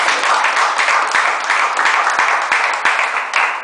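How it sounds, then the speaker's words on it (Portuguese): A church congregation gives a loud, sustained round of applause during a Sunday morning service, with close sharp claps punctuating the dense wash of clapping. "Dá uma salva de palmas."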